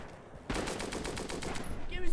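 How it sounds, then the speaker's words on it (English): Rapid automatic gunfire in the shooter game Heroes of the West, a loud burst of evenly spaced shots that begins abruptly and rattles on for well over a second. "Enemy fire, take cover!"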